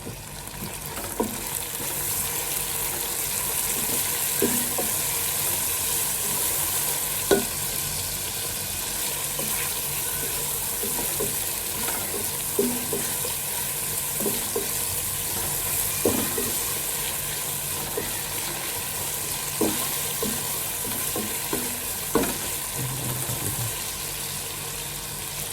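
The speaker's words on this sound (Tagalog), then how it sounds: "At lagyan natin yung hipon na maliit." Small shrimp sautéing in a pan with tomato for ginisang monggo, a steady soft sizzle with occasional stirring clinks and scrapes, no talking.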